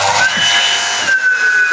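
A DeWalt radial arm saw fitted with a new Saxton 60-tooth blade spins up with a loud, steady high-pitched whistle over a broad airy hiss, holding for under two seconds.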